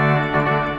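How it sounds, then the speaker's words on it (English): A trompette en chamade reed stop on a large Austin pipe organ blares a loud, bright, brassy held chord, briefly shifting notes, ringing alone without talk. "And then we've got a trompette en chamade,"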